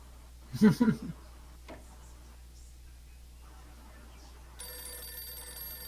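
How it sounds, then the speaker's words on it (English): A phone in the detective game Blues and Bullets rings with a bright, steady electronic trill near the end, following a short burst of talk and a quiet background hum. "The phone rings. Answer it."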